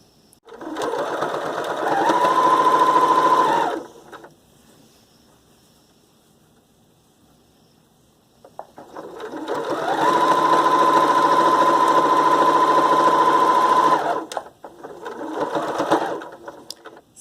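Sewing machine running a straight stitch along the folded edges of scarf fabric, sewing a reusable shopping bag closed: two sustained, close, steady motor-driven stitching runs of about two and ten seconds, separated by a quiet pause, with a brief restart near the end.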